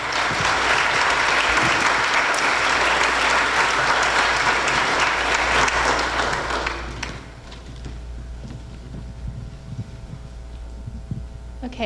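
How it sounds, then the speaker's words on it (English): Warm applause from a concert audience honoring past Loving Lenoir honorees, full and steady for about seven seconds before dropping off into a low hum with a few scattered claps and faint murmurs. "Give them a round of applause."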